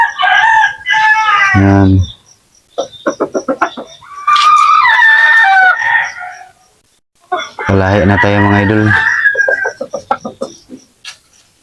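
Native chickens clucking and a rooster crowing nearby, two loud crows separated by scattered clucks, with someone talking between them.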